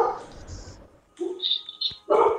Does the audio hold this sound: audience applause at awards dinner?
no